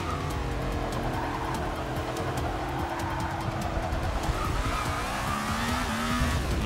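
A race car in Forza Motorsport 6 on a rain-soaked track brakes hard, its tires squealing and skidding in a long, wavering whine over a steady engine drone, close and continuous.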